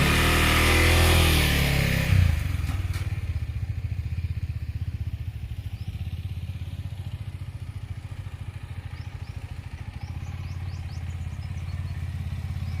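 An adventure motorcycle engine roars loudly at first, then drops to a steady, rapid idle chug as the bike comes to a stop in first gear. The engine stays close and continuous, with no talking.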